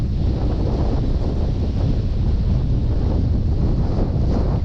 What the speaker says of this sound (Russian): Опять поднялся, усилился, вернее, ветер.